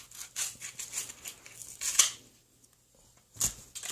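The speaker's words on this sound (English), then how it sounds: "There's these scissors here." Scissors snip through headset packaging in a run of crisp, close cuts, with a pause partway through and a final sharp snip.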